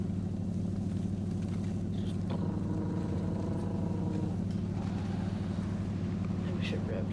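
A truck engine from the off-road game SnowRunner runs at a steady low idle, a continuous rumbling drone that holds throughout with little change in pitch.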